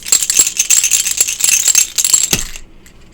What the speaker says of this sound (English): Sometimes the dealer will shake the dice